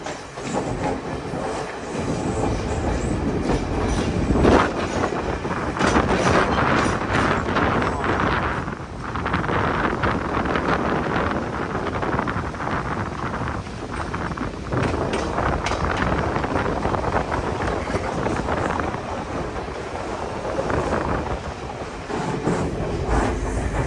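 A Sri Lankan train at Mount Lavinia station rumbles steadily for the whole stretch, with rattling carriages and wind buffeting the microphone, loud and close, no voices.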